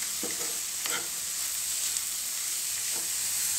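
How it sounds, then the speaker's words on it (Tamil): Beetroot sautéing with a sprig of curry leaves in a pan for chutney: a steady frying sizzle with a few soft stirring scrapes near the start and one near the end. "இதையும் சேர்த்துட்டு நம்ம நல்லா வதக்கிடலாம்."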